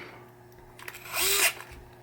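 A strong power screwdriver drives a screw into a 1972 Williams pinball pop bumper, a short rising whir of about a quarter second that ends abruptly, close and moderately loud in a quiet room.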